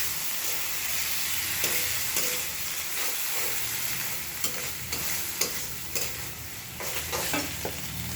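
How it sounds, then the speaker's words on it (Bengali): Boiled tadka being fried with spices in a pan, a continuous loud sizzle and hiss with repeated scraping strokes of the stirring spoon, close up and with no talk. "দিয়ে এবার আমরা এটাকে মশলার সাথে ভালো করে কষিয়ে নেব।"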